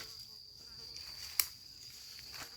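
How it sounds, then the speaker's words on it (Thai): Flies hovering over rotting termite mushrooms in the open, a faint steady insect drone with a thin high whine throughout, broken by one sharp brief click. "โอ้ยแมงวันเอ้ย"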